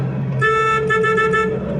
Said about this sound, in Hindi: ये देखिए मैंने इसको हॉर्न दिया